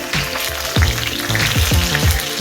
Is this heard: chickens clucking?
no